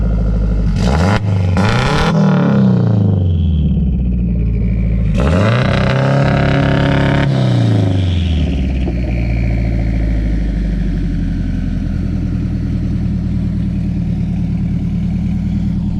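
A boosted Honda CR-V engine revs up twice under throttle, then settles back to a steady idle. The revs are loud and close, rising and falling quickly, and no one talks.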